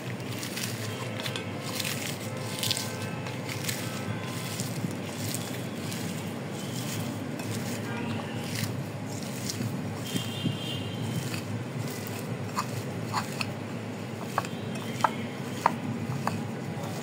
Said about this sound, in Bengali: এখন আমি একটু শুটকিটা আদা বাটা করে নিই।